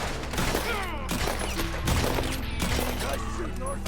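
Gunfire from a Red Dead Redemption 2 shootout crackles in dense, overlapping volleys of rapid shots, loud and continuous, with game voices and music underneath.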